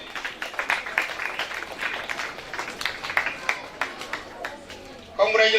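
A crowd at a school swearing-in ceremony claps for the newly declared head monitor, with uneven bursts of clapping under a murmur of voices and a louder burst near the end.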